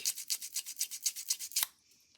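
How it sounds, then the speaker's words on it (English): Rapid rhythmic abrasive rubbing of a sanding disc, about a dozen quick gritty strokes close up, ending abruptly into quiet. "we're going to rough you up using our sanding disc."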